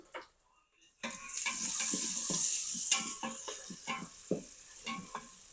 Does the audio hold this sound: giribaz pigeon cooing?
no